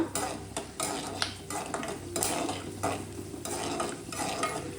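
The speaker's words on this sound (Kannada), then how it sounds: "ಈಗ ಆಯಿಲ್ ಬಿಸಿಯಾಗಿದೆ, ಕಡಲೆ ಬೀಜ ಹಾಕ್ಕೊಂಡು ಫ್ರೈ ಮಾಡ್ಕೊಳ್ಳೋಣ." Peanuts frying in hot oil over a low flame, with steady sizzling broken by repeated scraping stirs of a utensil against the pan, close and continuous.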